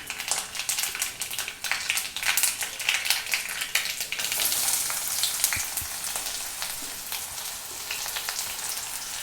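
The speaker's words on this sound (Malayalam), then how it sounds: "കടുക് പൊട്ടി വരുമ്പോഴത്തേക്ക് നമുക്ക് അരിഞ്ഞു വെച്ചിരുന്ന കൊച്ചുള്ളി അതിലേക്ക് ഇടാം" Mustard seeds and chopped shallots fry in hot coconut oil, giving a steady, close crackling sizzle with scattered pops, no talking, for a Kerala chicken curry tempering.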